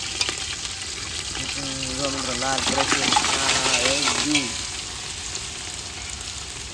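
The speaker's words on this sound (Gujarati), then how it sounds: "તપેલામાં જરાક પાણી દીધું ને એટલે તરતરાટી બને" Chopped onions sizzle and fry in a pot with a splash of water, a steady crackling hiss that grows louder midway as a person talks over it.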